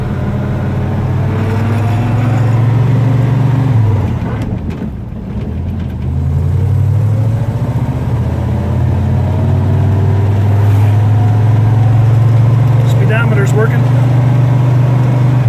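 A 1978 Ford F150 pickup crawling along in creeper gear with four-wheel drive engaged, its engine a steady low drone that holds throughout, briefly dipping mid-way, with someone talking over it close by.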